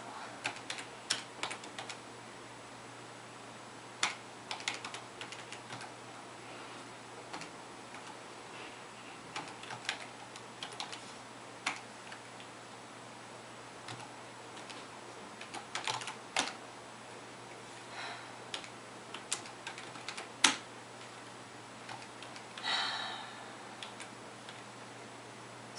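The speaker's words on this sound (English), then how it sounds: "Oh, this keyboard's terrible." Someone types on a computer keyboard while playing Quest for Glory 1 in DOSBox, producing irregular clusters of sharp, close clicks over a quiet background hum with short pauses between bursts.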